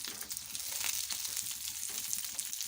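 Fish pieces fry in oil and are browned on both sides, producing a close, continuous sizzle with crackling bursts that rise and fall slightly.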